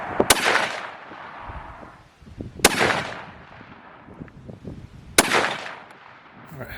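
Three loud, sharp rifle shots from a .270 WSM fired in a group, evenly spaced about two and a half seconds apart, each with a ringing outdoor echo that trails off, and quiet background between shots.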